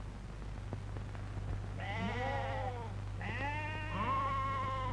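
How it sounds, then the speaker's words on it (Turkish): Sheep bleat twice in wavering calls over a low steady hum, fairly close and clear. "Bu koyunlar da ne hemşerim?"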